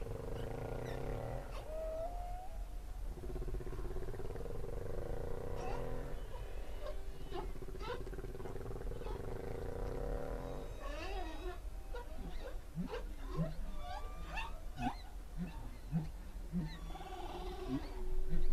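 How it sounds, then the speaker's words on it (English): Humpback whale song underwater, a sequence of long moans, rising and falling whoops and short grunting pulses over a steady low hum, with brief squeaks near the end. "I didn't want to interrupt listening to this humpback whale"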